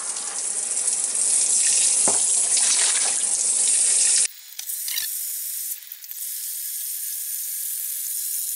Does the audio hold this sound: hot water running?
yes